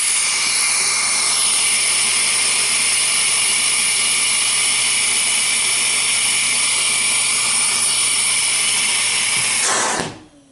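A vacuum cleaner motor with a working vacuum gauge attached runs at a loud, steady high-pitched whine for about ten seconds, then cuts off and winds down at the end.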